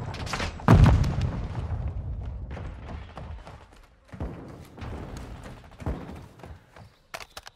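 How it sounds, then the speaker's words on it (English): A Semtex grenade detonates in Call of Duty Modern Warfare 2 multiplayer with a heavy close boom and rumbling tail, followed by continuous dense combat noise with further thuds and gunfire. "Throwing Semtex!"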